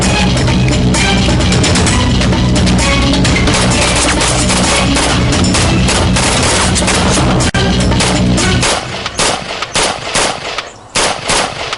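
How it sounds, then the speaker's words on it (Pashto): Loud, rapid machine-gun fire rips through the inside of a bus as a drama sound effect, continuous for most of the stretch before breaking into scattered bursts near the end. "بس کې ډزې باندې کوي"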